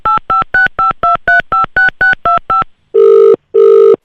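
A phone keypad sends a quick, even run of about a dozen loud dialing tones, then falls silent before two longer ringback tones sound.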